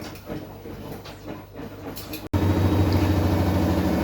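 A homemade egg incubator for Borkivska barvista chicken eggs gives off a steady, close electrical hum that starts partway through, after a person speaks over quieter room sound.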